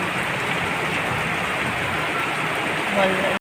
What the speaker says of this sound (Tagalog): Pero thank you Lord God sa ulan